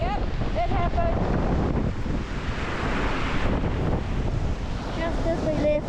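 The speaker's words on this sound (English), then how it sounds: "Just as we left, the water came right over." Ocean waves surge over a narrow coastal spit near the Rangitata huts fishing village, a steady roaring wash under heavy wind buffeting on the microphone, with brief voices at the start and end.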